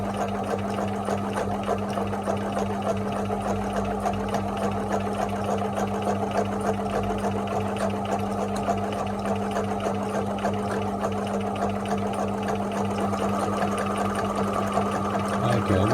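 Sewing machine stitching a dense zigzag satin stitch in free motion embroidery, humming steadily and rapidly at close range for the whole stretch with no pauses and no talking.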